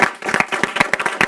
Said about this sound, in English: Let's give Lex another round of applause